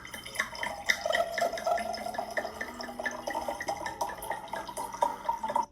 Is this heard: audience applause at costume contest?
no